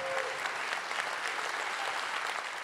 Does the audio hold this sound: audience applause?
yes